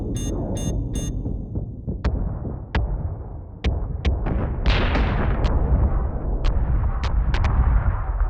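Incoming missiles and explosions in a space battle from Battlestar Galactica Deadlock: quick sharp blasts and pops spaced irregularly, followed by heavier rumbling detonations, loud and close with no talk.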